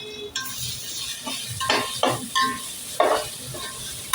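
Ginger and garlic are stirred and fried in a pan for vegetable biryani. A constant sizzle runs under repeated spatula scrapes and metallic taps, close and fairly loud, and no one speaks.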